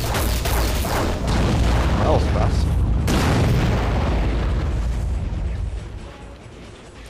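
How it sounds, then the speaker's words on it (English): Deep booming explosions rumble in the underwater video game Aquanox, with a sharp blast partway through and low sustained thunder, while someone briefly speaks over them. "Explosions are a bit quieter now"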